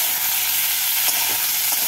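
Tomato frying with onion and garlic in a pan for a potato and okra curry, a steady close sizzle with a few faint stirring scrapes and no talk.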